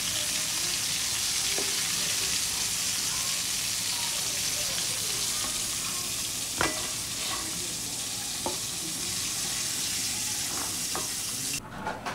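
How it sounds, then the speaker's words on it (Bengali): KFC-style crispy fried chicken cooking in hot oil, a steady, loud hiss of sizzling throughout, with occasional sharp clinks and scrapes of a utensil against the pan. "আমাদের চিকেন ফ্রাই কিন্তু হয়ে গেছে আর আমরা এগুলাকে তুলে ফেলতেছি।"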